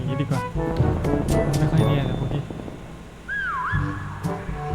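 Sliding whistle taunt from the Prop Hunt video game: a short rising-and-falling whistled tone rings out late in the clip amid game music, thuds and effects, with a player talking over it.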